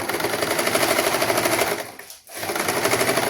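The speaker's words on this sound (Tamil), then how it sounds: "துணியையும் பைப்பிங் துணியையும் வச்சு நாங்கள் சைட்டெல்லாம் தைக்கணும்" A sewing machine runs steadily, stitching the sides of a sari blouse together with piping fabric, a dense continuous whir that briefly dips and stops near the middle before resuming at the same close, even pace.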